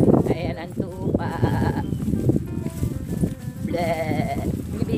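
Sheep bleat several times, wavering calls of varying pitch, some near and loud, mixed with people talking casually and road-trip background noise.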